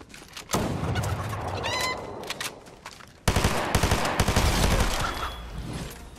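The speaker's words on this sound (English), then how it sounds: "I was gonna kill the chicken." Chicken clucking in the video game Fortnite, a short rising bird call amid busy game noise, followed by a burst of rapid gunfire.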